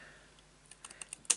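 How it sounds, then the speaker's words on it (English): Scissors snipping a small notch out of paper while crafting a double pocket page for a memory book: a few short, crisp cuts bunched near the end of a quiet stretch, close and fairly faint. "make myself a little notch there and there, and just with my scissors"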